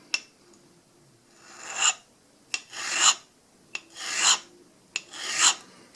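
A sharpening stone hones a hardened 1911 pistol sear held in a stoning jig, with four close rasping strokes, each building to a peak and ending in a sharp click, separated by short pauses, and no voices.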